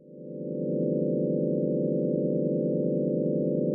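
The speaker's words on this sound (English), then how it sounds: "A tonescape is the notes of a shape played at the same time." A tonescape sounds as the notes of a shape played together in one sustained, steady chord of pure sine-like tones, fading in over the first second and then holding evenly with a dense, slightly beating hum.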